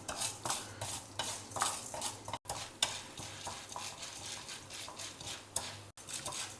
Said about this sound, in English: add about 2 tablespoons of chana dal and 2 tablespoons of urad dal. Fry them till the dals become a golden color.